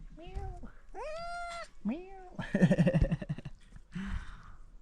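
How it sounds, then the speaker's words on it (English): A small working cat at a Himalayan trekking lodge on the Pikey Peak route meows several times in rising, drawn-out calls, close and clear, with some rustling and handling noise between cries. "Oh, little working cat."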